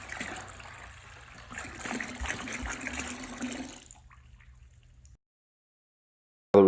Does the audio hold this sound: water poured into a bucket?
yes